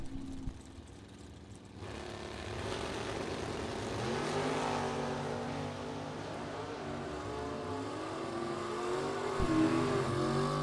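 Drag race cars at a bracket racing event, including Andy Schmall's Beretta from Idaho Falls, roaring and revving as they launch, the engine noise swelling after a quiet start and holding loud and steady to the end.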